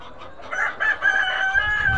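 Tiger breed chickens at a poultry farm, a rooster's crowing call rising over a busy background of clucking fowl, fairly close and loud, with no talk.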